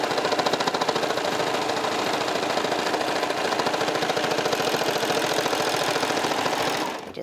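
A sewing machine stitches clear elastic onto knit fabric for a tank top lace insert, a fast, even, close mechanical rattle running nonstop for several seconds before stopping.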